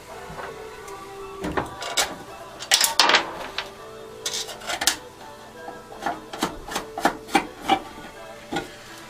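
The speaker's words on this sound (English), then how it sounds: "We're just going to slide this back onto our supports." The metal top piece of a kerosene heater scrapes and clunks as it slides back onto its supports, a string of close, faint rubbing and tapping sounds with a few sharper knocks.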